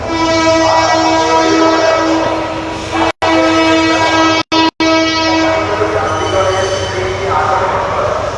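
A departing train at Kamalapur railway station in Dhaka sounds a long, loud horn with strong sustained tones over rolling rail noise and station bustle, cut by a few brief dropouts, with some voices in the background.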